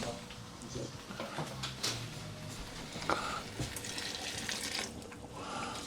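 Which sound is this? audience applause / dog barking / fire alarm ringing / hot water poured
hot water poured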